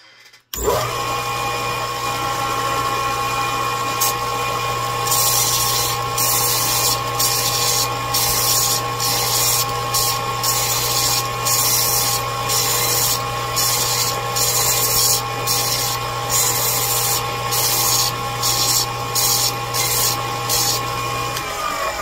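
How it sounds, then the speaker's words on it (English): A power sander grinds down the edges of metal bottle caps, a steady close whine and hum with a rhythmic pulsing rasp as each cap is worked against the abrasive, running continuously with no talk. "Most of them, just a couple times around the sander will come right off and fit right in."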